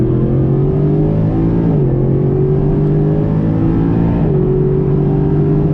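A powerful 2012 Mercedes-Benz SLS AMG supercar engine roars steadily at close range, pitch climbing through the gears with two brief dips as it shifts.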